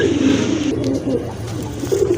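A pair of big Lakkha pigeons coos steadily and close by, a continuous low throaty warble that runs throughout with no talk.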